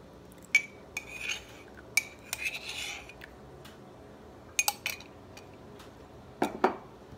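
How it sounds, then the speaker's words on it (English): A spoon stirs a keto chocolate peanut butter mixture with melted butter in a bowl, giving scattered metallic clinks and scraping rubs against the dish, close and fairly quiet, with no speech. "I'm just going to give it a quick little stir"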